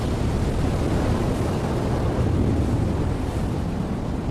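Rough ocean surf roars in a dense, continuous wash of noise, loud and steady throughout with little variation.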